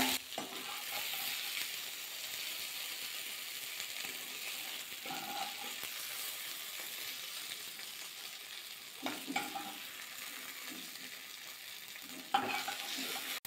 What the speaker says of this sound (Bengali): বেগুনটা ভাজা করে নিয়েছি, উল্টে পাল্টে তুলে নেব এবার।